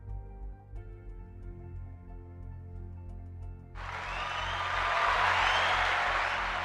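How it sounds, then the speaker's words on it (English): Crowd clapping swells in partway through, a dense, steady wash of many hands that grows louder and holds to the end over a low background hum. "can you hear clapping?"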